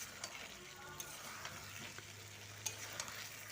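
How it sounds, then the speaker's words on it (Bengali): Potatoes for aloo dum being stir-fried in a pan, a quiet, steady sizzle with soft, irregular stirring scrapes and a couple of sharper clinks, with no one talking. "এরকম কষাতে কষাতেই আলুর দমটা হয়ে যাবে"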